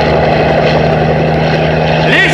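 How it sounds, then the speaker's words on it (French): A helicopter in a film scene roars toward the characters with a loud, steady droning rotor hum and a swelling whoosh near the end, under talk. "Un hélicoptère, mais il fonce sur nous!"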